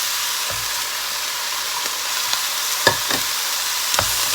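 Pumpkin drops into a pan of frying mushrooms and pork belly, a loud continuous sizzle punctuated by a few soft thuds and scrapes, close and without talk.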